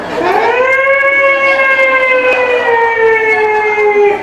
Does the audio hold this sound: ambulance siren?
yes